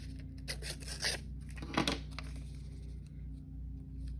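A paper craft piece is trimmed, producing soft, close rubbing and rasping snips in a few short bursts over a faint steady background hum.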